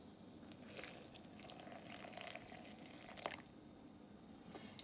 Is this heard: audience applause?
no